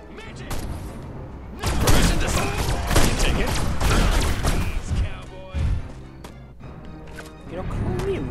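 Gunfire and explosive impacts in the Destroy All Humans video game during an attack on a tower, loud irregular bursts of shots and thuds layered with game voices and effects.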